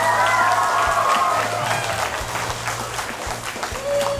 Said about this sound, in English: Y'all give Tripp a round of applause.